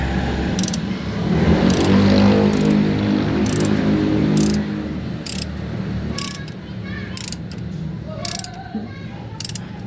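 A wrench ratchets a loose part tight during an engine oil-leak fix, making evenly spaced sharp clicks that repeat close by over a low, steady background hum.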